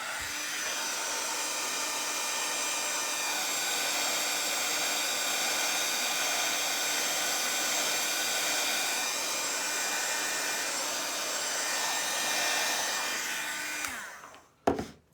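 A hair dryer blows steadily on stencil paint, with a continuous close, loud whooshing hum that runs unbroken for about fourteen seconds before cutting off, followed by a few faint handling clicks.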